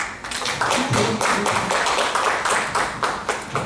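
An audience at a club talk session claps in a steady rhythm, sharp repeated hand claps in quick succession with no speech over them.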